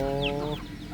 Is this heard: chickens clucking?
yes